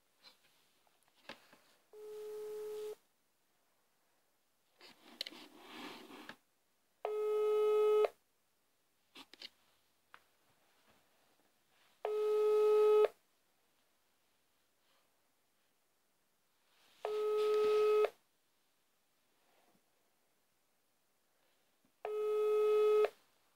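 An unanswered phone call ringing out: five evenly spaced ring tones, each about a second long and separated by several seconds of near silence, with faint rustling and breathing in between.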